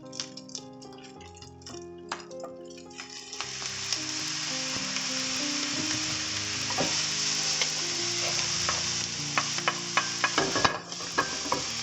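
Maggi soy sauce hits tornado-omelette fried rice in a hot pan, raising a loud, steady close-up sizzle with scattered ticks and scrapes of stirring, and no talking.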